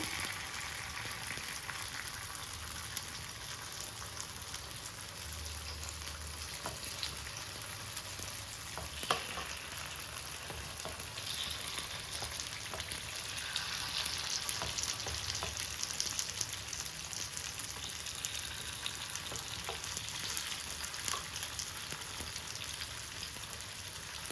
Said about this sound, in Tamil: அடுப்பில் சிம்மில் வச்சுக்கலாம் அப்படியே மெதுவாக திருப்பி போடுங்க